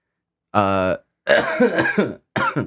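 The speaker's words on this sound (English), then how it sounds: "I'm sorry if the cough is throwing you guys off." A person coughs close to the microphone, a harsh voiced hack followed by a cluster of rougher coughs after a short pause.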